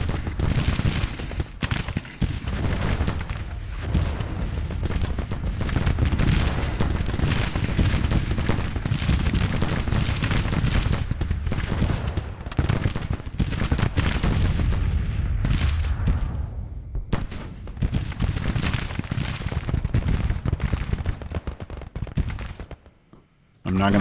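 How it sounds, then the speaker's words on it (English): Dense, continuous battlefield din from the Civil War strategy game Grand Tactician, with rolling artillery booms and crackling volleys of musket fire, loud and sustained throughout, mixed with a voice before the noise cuts off abruptly at the end. "there's some heavy-duty fire going on over here"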